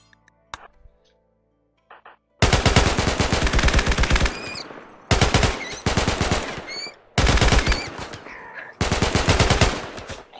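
Automatic gunfire in the video game RimWorld: four long, loud bursts of rapid machine-gun shots separated by short pauses, after a few faint clicks at the start.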